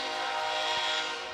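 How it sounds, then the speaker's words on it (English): A passing train near a soccer stadium sounds its horn in one sustained, steady blast from a moderate distance during a college men's match between UAB and Louisville, with no speech over it. "That is a train horn."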